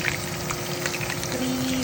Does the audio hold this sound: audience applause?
no